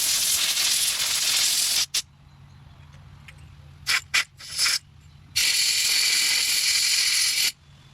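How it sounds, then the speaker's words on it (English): Air compressor nozzle blowing debris off a Kohler engine on a Toro Recycler mower, loud hissing blasts in several bursts, one long at the start, short puffs in the middle and another long blast near the end. "I'm going to blow all this stuff out with an air compressor."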